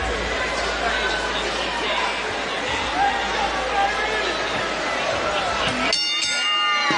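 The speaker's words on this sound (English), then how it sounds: "The crowd still in an absolute frenzy here as we are ready to make this one official." Boxing arena crowd roaring and chattering in a steady frenzied wall of noise after a ten-round women's bout, dense and continuous, with a brief sharper burst of voices near the end.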